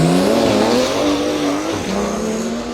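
A Porsche 930 TAG Turbo by Lanzante, fitted with a 1.5-litre turbocharged V6 Formula 1 engine, revs hard and close, its loud note climbing and shifting pitch across a few seconds with no one speaking.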